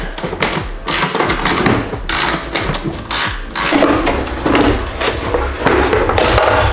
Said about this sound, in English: So there's 1, 2, 3, 4, 5, 6, 7, 8 screws that we need to remove to get the lid off of here.